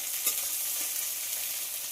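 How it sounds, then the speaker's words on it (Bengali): Chopped onion fries in hot mustard oil with cumin seeds: a constant bright sizzle, loud and close, with a small crackle near the start and no talking. "পেঁয়াজটাকে একটু হালকা ব্রাউন করে ভেজে নিতে হবে।"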